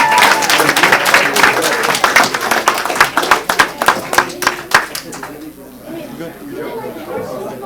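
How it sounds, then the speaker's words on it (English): A crowd applauds at a City of Brawley council meeting: many hands clap loudly and unevenly for about five seconds, then fade out, with people chattering throughout. "One last big round of applause"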